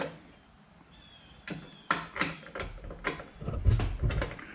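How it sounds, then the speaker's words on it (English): A 1/2 inch wrench tightening a locking nut on a Cub Cadet mower, giving a series of close metallic clicks and scraping turns in irregular strokes. "now I've got a 1/2 inch wrench"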